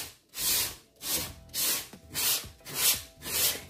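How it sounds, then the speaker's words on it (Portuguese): Coarse 150-grit sandpaper rubs back and forth over a wooden faux-pallet plaque, six rhythmic rasping strokes with short gaps between them, close and loud with no talk. "Essa lixa 150, ela é bem, bem grossa."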